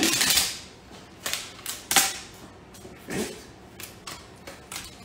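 Clear duct tape being pulled and cut in a pastry kitchen, heard as a loud ripping burst at the start, then a few sharp tearing snaps and crackles spaced out over several seconds, close and with no talk.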